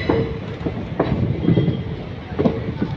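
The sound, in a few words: train moving into station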